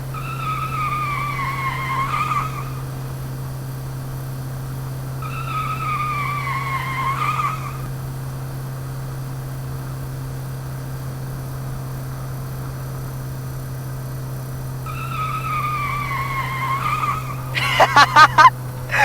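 Racing cars skid with repeated tire squeals, each a descending whine lasting about two seconds, heard three times over a steady engine drone and ending in a burst of sharp screeches.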